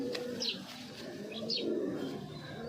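Low, soft cooing from a giribaz flying pigeon rises in short swells, joined by a couple of faint chirps from other birds against a dull background hum.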